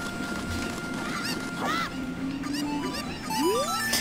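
Cuccos, the chickens in the video game Zelda: Ocarina of Time, squawk and honk in rising and falling calls over a steady game background, several separate cries close together.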